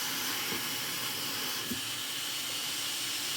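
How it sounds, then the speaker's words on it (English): A 1960s American vacuum cleaner runs with a steady loud rushing hiss and whine as it sucks, with a couple of brief knocks partway through. "we just need to take our 1960s American vacuum cleaner and"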